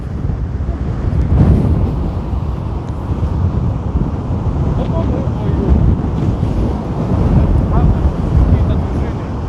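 Strong wind buffeting the microphone on a stormy seashore at Anapa, a loud, constant roaring rush with waves churning beneath it.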